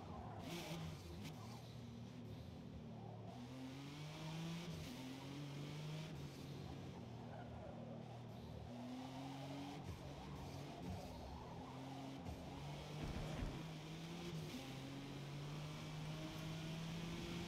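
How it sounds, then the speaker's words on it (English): Game engine sound of a GT 2007 race car in Forza Motorsport multiplayer, a steady sustained drone with rising and falling gear pitches over continuous track noise. "This is a pretty fast car, this GT 2007."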